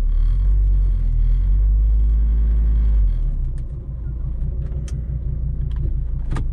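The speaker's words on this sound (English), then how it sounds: "we're just gonna move this car over to my driveway now" Volvo XC90 engine rumbling close up with a heavy low drone, easing after a few seconds into a lighter steady run as the car is slowly moved onto a driveway, with faint clicks.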